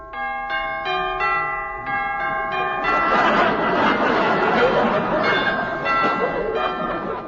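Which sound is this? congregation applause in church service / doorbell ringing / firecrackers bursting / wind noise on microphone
doorbell ringing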